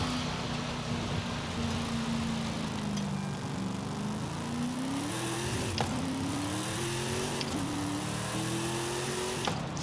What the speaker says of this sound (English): I like how the car, like, it gets higher pitched the higher the RPMs